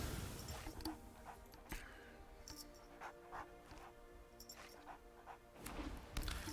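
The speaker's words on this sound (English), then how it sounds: "Quit petting my dog and making it make noise." A dog being petted whimpers and gives short yips, fairly faint against steady background noise and scattered clicks and knocks.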